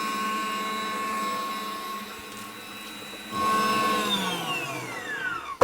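An electric mixer whips egg whites for a red wine marshmallow with a steady whirring drone. Its pitch shifts partway through, then slides down at the end as the beater slows.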